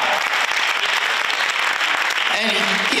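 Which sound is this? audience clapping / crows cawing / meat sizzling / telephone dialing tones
audience clapping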